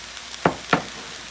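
Zucchini and fresh corn being sautéed in a pan, heard as two quick, close stirring strokes about a third of a second apart over a faint background.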